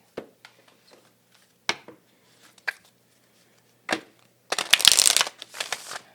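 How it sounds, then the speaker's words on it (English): Soft scattered taps and flicks of tarot cards being handled, then a quick riffling burst of a shuffle near the end. "I just like to do a shuffle that you can see."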